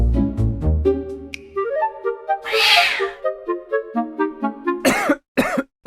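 A person coughs in a few harsh bursts near the end, after a stretch of meow-like tonal calls and a brief noisy rush in the middle.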